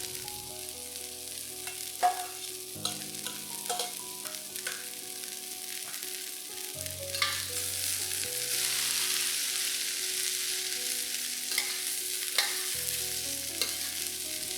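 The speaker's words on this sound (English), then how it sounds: "Then add in the cabbage." Cabbage tossed with the white parts of spring onions and dried shrimp in hot oil gives a steady close sizzle, with bursts of scraping and stirring clatter and no talking.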